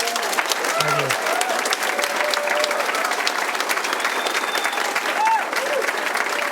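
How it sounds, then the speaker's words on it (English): Warm, steady audience applause at a book talk on traditional retirement, many hands clapping together at close range, with faint voices and cheers threaded underneath. "let's all give Derek a big round of applause"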